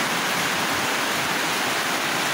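Heavy rain pours down steadily on a boat under construction, a dense, loud, unbroken wash of noise with no voices.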